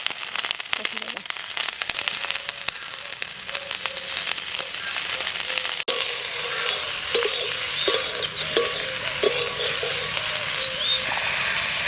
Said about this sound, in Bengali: এটা একটু হালকা ভেজে নিলাম কপিটা